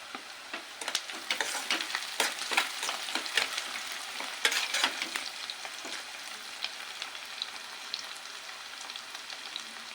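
Dal and chopped onions frying in a pan for a Telugu greens curry, a continuous close sizzle dotted with sharp crackles and pops, heard alone without talk.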